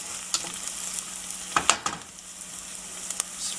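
Chilies fry in a pot of oil for Paya soup, giving a soft steady sizzle with a few sharp crackles and stirring scrapes close by.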